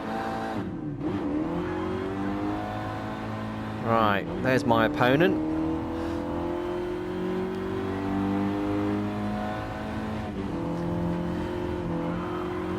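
A race car in the Gran Turismo Sport video game drives on with a steady engine drone, revving and gear changes, plus a burst of tire squeal mid-run, while someone talks over it.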